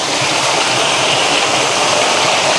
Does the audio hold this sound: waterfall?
yes